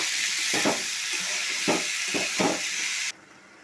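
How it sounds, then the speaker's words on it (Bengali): Potatoes and lentils fry with salt and turmeric in a pan, giving a steady close sizzling hiss broken by a few stirring scrapes before the sizzle suddenly drops away. "এখন আমি পরিমাণ মতো লবণ আর পরিমাণ মতো হলুদ দিয়ে এগুলো একটু কষিয়ে নেব"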